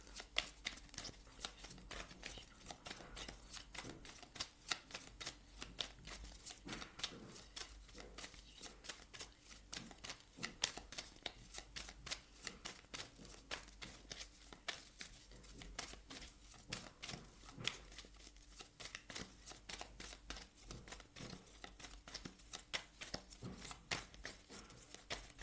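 Love oracle cards being shuffled by hand, a steady run of rapid papery riffles and flicks close up, continuous and alone with no talking.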